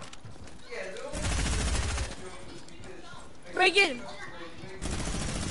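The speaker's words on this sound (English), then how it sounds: "And then Areeb starts AR spamming." Assault rifle spam in a video game comes as two bursts of rapid automatic fire, loud and dense, with a voice speaking briefly between them.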